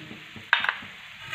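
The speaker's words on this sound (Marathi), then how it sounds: "शेंगदाणे मीठ छान प्रकारे मिक्स करून घेऊ" A spoon stirs coarsely crushed peanuts and salt into a vegetable mixture in a pot, giving one sharp scraping clatter and a few soft rustling turns, close and brief.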